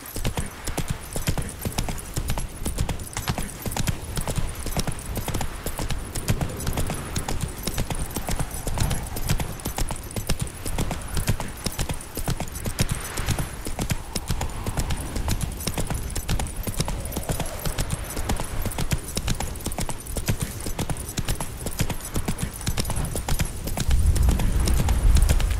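Horse galloping in The Witcher 3, a steady rapid clip-clop of hooves running on and on through the whole stretch, with faint game ambience beneath and a brief low thump near the end.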